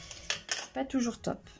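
An ink stamp clatters against a glass gel printing plate during scrapbooking, with a few sharp hard knocks and scrapes close by while someone speaks quietly in French.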